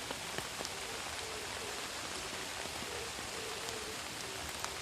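Heavy rain falls steadily on a wooded hillside behind a rural home garden, a dense continuous hiss of drops with occasional louder patters, no voices.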